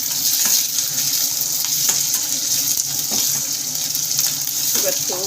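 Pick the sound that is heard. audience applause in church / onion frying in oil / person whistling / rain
onion frying in oil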